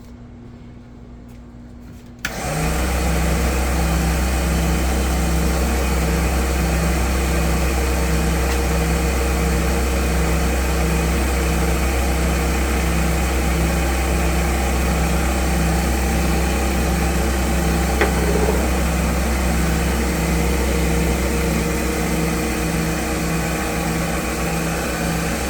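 Polishing machine switched on and running wide open with a supplied pad while applying CA clear coat, a steady loud motor whine with a low hum, holding constant for over twenty seconds after starting.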